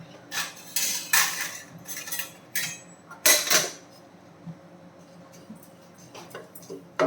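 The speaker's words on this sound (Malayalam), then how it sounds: "ഇതൊന്ന് തീ കുറച്ച് വെച്ചിട്ട് ഒന്ന് വറുത്തെടുക്കണം" Rolled oats dry-roasted over a low flame in a pan, stirred so a utensil scrapes and clinks against the metal in irregular bursts, close and fairly loud, with quieter gaps between strokes.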